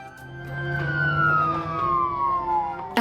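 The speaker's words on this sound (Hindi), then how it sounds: "एम्बुलेंस आ गई थी।" An ambulance siren wails with a long falling tone over a low traffic-like hum, moderately loud and steady, ending in a sudden sharp burst, with no voices heard.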